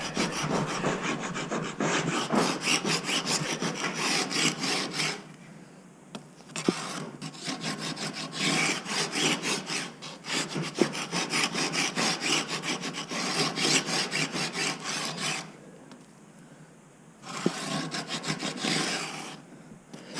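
A 14-inch wooden bow riser section is scratched up by hand, giving long rasping strokes in a steady rhythm, close and fairly loud, with two brief pauses between runs.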